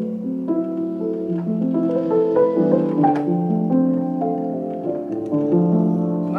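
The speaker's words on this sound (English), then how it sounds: "so you can pop a felt between the hammers and the strings to play quietly" A used Osztreicher upright piano is played softly with a felt strip lowered between the hammers and the strings. The chords and melody sound muffled and mellow, steady and close, with no talking.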